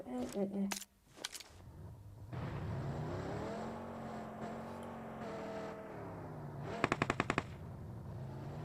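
Gunfire in a PUBG Mobile match, a couple of sharp shots early on and a fast burst of automatic fire near the end, over steady engine-like game noise and talk.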